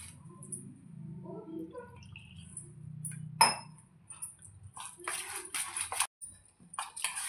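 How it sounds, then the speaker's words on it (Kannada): Water is added to sweet corn batter for paddu and stirred by hand, giving soft wet squelches, a few clinks of a utensil against the bowl, and later bursts of brisk mixing, close by with no speech. "ಇನ್ನೊಂದು ಸ್ವಲ್ಪ ನೀರು ಹಾಕ್ಕೊಳ್ಳೋಣ"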